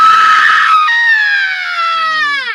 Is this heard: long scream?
yes